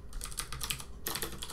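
Rapid typing on a computer keyboard, a close, steady patter of key clicks that pauses briefly and then resumes with a louder burst.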